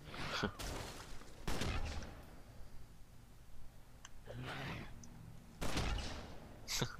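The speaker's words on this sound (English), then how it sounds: "I love just shooting grenades at people." Grenades fired at enemies in the superhero video game DC Universe Online, with several loud bursts of gunfire and explosions separated by quieter clicking and game noise, close and punchy.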